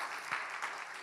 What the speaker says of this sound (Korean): 아멘 하면 박수 한번 쳐보세요